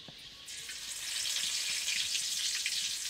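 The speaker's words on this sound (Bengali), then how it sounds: "আগুন দেখতেছেন দাও দাও করে আগুন জ্বলতেছে।" Fire roars steadily in a clay village stove beneath a pan, a dense, continuous crackling hiss that swells after the first half-second and holds at a constant level with no voices.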